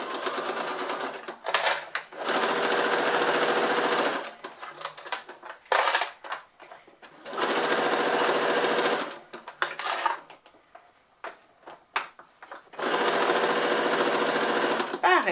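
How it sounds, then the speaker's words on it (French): A sewing machine stitching a double-sided fabric pouch, running in three long bursts of rapid mechanical clatter separated by quiet pauses where the needle is set and the fabric turned. "Je continue à coudre."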